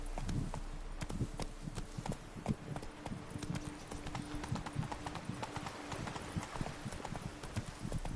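Horse hooves clip-clop steadily in a fast, regular rhythm while riding in the Witcher 3 video game, loud and continuous with no pauses.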